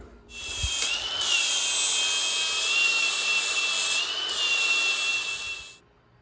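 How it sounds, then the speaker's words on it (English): A grinder whines loudly and continuously as it grinds down bolt heads during a Honda K24 engine swap into a Porsche, pitch dipping briefly under load before spinning down, close and alone. "I'm gonna grind the heads of these bolts down by about half and see if that gives us enough room"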